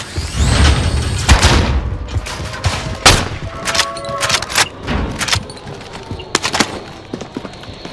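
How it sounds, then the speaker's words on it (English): A grenade goes off in the Call of Duty Warzone shooter on Rebirth Island, with sharp, loud blasts and crackling bursts of gunfire scattered through the clip. "Throwing grenade."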